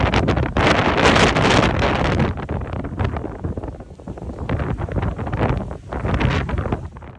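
Storm Benard's gusts of up to 100 km/h roar across the Bay of Cádiz, loud buffeting wind surging and easing in heavy waves against the microphone, with no voices.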